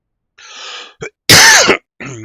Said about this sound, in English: Sorry for coughing into the mic again.